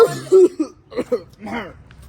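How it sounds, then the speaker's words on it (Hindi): A person coughs and clears their throat in a few harsh, close bursts, a barking cough, with brief vocal sounds between them. "इसको कहते हैं कुत्ता खांसी"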